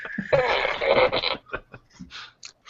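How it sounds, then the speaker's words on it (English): Toy fart gun going off up close, a loud sputtering burst lasting about a second, followed by scattered laughter and brief voices. "That's a fart gun"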